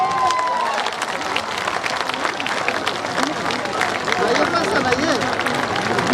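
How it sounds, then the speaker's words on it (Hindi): Crowd at a Jan Suraaj party event breaking into loud, sustained applause with scattered cheers, a dense wash of clapping filling the whole stretch. "जोरदार ताली बजाइए।"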